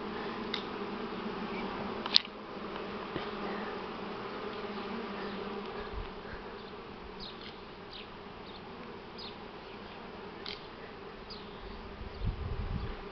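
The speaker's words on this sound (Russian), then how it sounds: "Вот пчела у нас с обножкой запуталась в паутину." Buckfast honey bees hum steadily around the hive in spring, a continuous low drone with individual bees passing close now and then, outdoors and fairly quiet with no talking.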